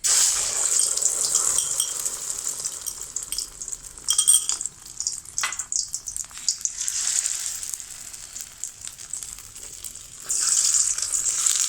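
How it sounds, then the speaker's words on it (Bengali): An egg frying in plenty of hot oil in a kadai gives off a steady, bright sizzle with louder spitting bursts now and then and faint clatter. No voices are heard. "এই তো কড়াইয়ে আমি তেলটা একটু বেশি করে দিছি ডিম ভাজিতে"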